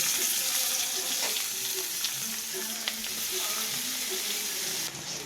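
Chopped onions frying in oil with cumin, dried chilli and a bay leaf, a constant dense hiss with a few faint stirring knocks, slightly quieter near the end.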